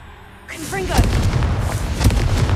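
Confringo fire spell explosion in Hogwarts Legacy, with a rising whoosh followed by a loud, rumbling blast that sustains with crackling bursts, starting suddenly after a quiet opening.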